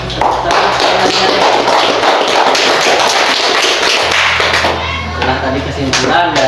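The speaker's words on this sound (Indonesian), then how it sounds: "Silakan tepuk tangan dulu untuk Yolanda." A classroom of students claps for a classmate named Yolanda, a dense, steady patter of many hands filling several seconds, with a low hum running beneath and voices murmuring near the end.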